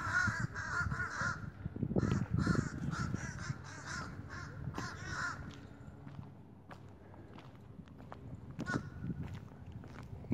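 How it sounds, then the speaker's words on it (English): Several crows caw repeatedly in loud, harsh bursts in Chesilhurst, New Jersey, then fade, with scattered footsteps and rustling nearby. "Birds are trying to tattle."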